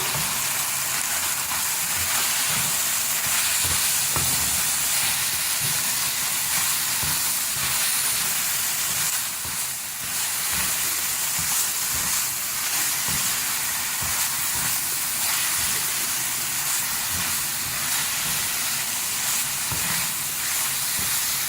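Beef mince with onion and spices sizzling in a pan over a medium flame, a steady loud hiss that runs unbroken throughout with faint stirring knocks beneath, no talk.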